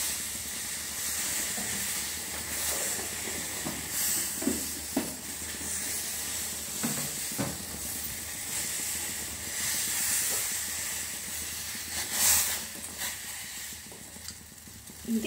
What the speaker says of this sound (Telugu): ఇది 1 కప్ అయ్యే వరకు ఈ నీళ్ళని మరిగిద్దాను.